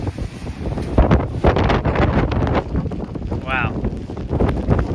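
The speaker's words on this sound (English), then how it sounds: "Oh, yep, these are the 50 gusts." Strong non-convective wind gusts of around 50 mph roar continuously across the microphone during a high wind event, producing loud, buffeting rumble with fluctuating intensity, while people talk over it.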